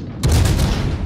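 A French cruiser's guns firing in a naval video game, one loud, deep boom with a rumbling tail that lasts about a second.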